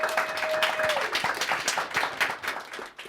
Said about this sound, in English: let's definitely give a round of applause to each and every one who was here